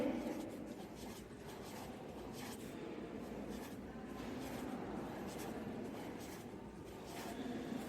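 Pencil scratching round and round on paper as circles are drawn for a honeycomb tessellation, a steady close dry rubbing that continues throughout with no pauses.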